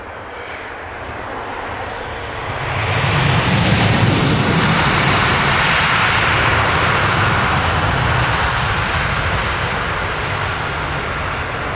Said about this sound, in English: Another of our expected A330s.